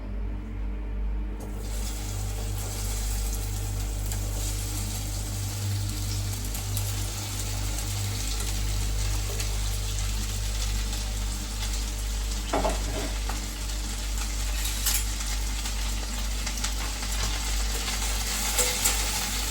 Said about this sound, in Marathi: तेल तापले आपलं. आता ही भेंडी टाकते